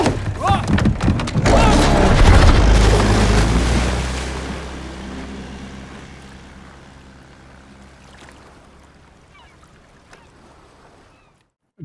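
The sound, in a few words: boat roaring through the frame, Ripley sound design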